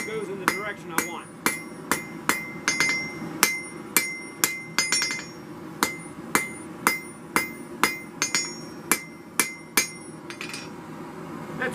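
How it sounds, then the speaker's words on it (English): Hammer striking hot steel at a forge while beveling the edge of a blade, a steady series of sharp ringing blows about one per second, close and clear over a low background hum. "It's automatically or naturally going to get pushed this way by the forging process, the edge beveling process"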